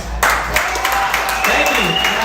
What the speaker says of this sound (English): Everyone, can we give a round of applause to Tanya's Gridiron?